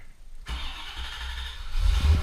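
A C4 Corvette with a six-speed manual cranks and fires, its engine catching abruptly into a loud, rough idle with deep low rumble that swells toward the end, close by and heard alone.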